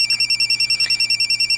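A phone rings on an outgoing call, a fast, evenly pulsing electronic trill repeating about ten times a second, loud and alone.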